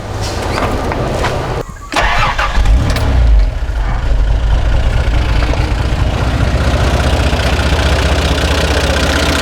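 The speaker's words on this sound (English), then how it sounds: "As you can hear, it's totally different engine, no coughing and spluttering anymore." A 60 Series engine, freshly tuned with a carby kit, cranks and fires up, then settles into a smooth, even idle, loud and close, with steady running and no misfires.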